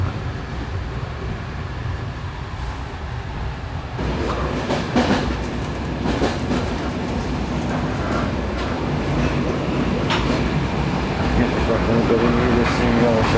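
A passenger train travelling through the Turkish countryside rumbles steadily along the rails, with a continuous low roar and intermittent rattles and clacks heard from inside the carriage, and a voice talks over it.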